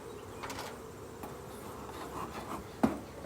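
Honey bees swarm around an opened hive in a low, continuous buzz, with individual bees zipping past and a soft bump of handling near the end.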